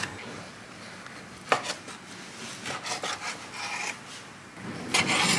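A knife cuts chirashi sushi into about sixteen bite-size pieces, giving scattered close rubbing, scraping slices and a few sharper cuts on a board, heard alone with no voices.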